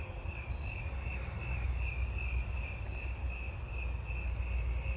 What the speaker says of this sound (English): I'm hearing a Thomas's trig too